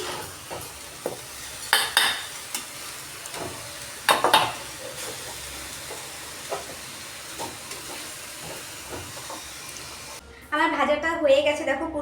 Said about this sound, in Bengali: এখন আমি সুন্দর করে ভেজে নিচ্ছি